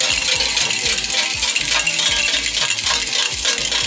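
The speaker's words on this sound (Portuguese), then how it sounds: "E aí as moedas caem nessa parte de baixo." Coins clatter down into the tray of a laundromat change machine, a steady jingling, rattling cascade of many metal coins that continues without pause, close and loud, with no voices.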